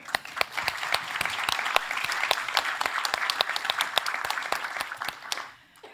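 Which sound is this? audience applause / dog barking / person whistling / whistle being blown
audience applause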